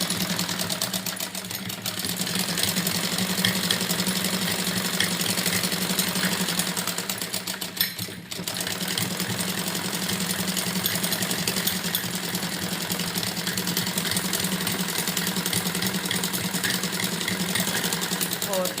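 A sewing machine runs steadily on a heavy suit, a continuous fast mechanical whir with one brief pause partway through.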